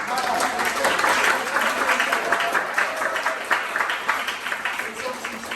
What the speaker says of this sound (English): So big round of applause to yourselves, please, to start.